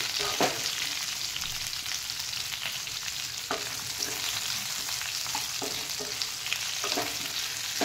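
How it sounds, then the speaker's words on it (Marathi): Sliced bitter gourd sizzles and crackles continuously as it is stir-fried in hot oil, with occasional scrapes of stirring and no talk. "आता याला आपण मिक्स करून घेऊयात तेलामध्ये परतून"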